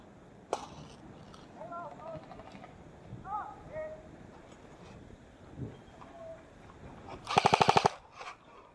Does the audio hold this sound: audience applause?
no